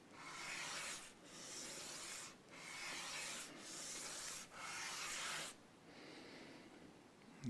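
A part is hand-sanded during a Fender Mexican-made Stratocaster setup, a close scratchy rasp moving in about five steady strokes with short pauses between them, then a softer, lighter pass at the end.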